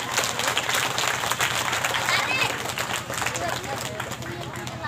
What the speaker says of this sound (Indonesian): tepuk tangan untuk warga sini tuh